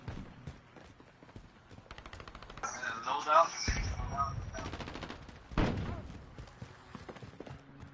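AK rifle bursts in the Modern Warfare beta video game, a couple of loud sustained volleys in the middle with a sharper burst after, over quieter game noise and a talking player.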